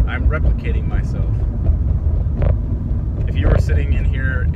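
Inside a moving car, a steady low road rumble and engine drone fill the cabin, with faint voices murmuring under the noise.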